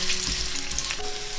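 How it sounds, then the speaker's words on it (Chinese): Chopped ginger sizzling in hot oil in a wok, a steady bright frying hiss that runs without a break, with a faint clink partway through, and no voices. "重新起锅热油，把姜粒放进来爆香"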